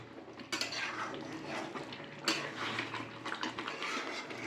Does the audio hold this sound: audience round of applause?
no